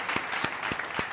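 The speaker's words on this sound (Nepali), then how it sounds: "एकचोटि जोरदार ताली बजाइदिनु भयो हाम्रो अडियन्सले" Applause for the winner of a 3-5 match Minecraft tournament comes as four evenly spaced, sharp claps, close and fairly loud, with no speech over them.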